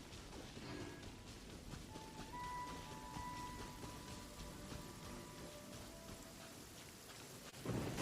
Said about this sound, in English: Thunderstorm out of nowhere.